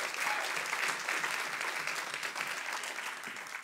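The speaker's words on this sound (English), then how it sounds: "And let's clap one more time," A crowd applauds steadily, close and sustained for several seconds, a thick, even wash of clapping with no pauses.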